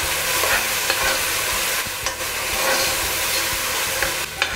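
Onions sizzle loudly in a hot pan with browned ginger and garlic for a bottle gourd kofta curry, giving a constant close hiss broken by scraping stirs.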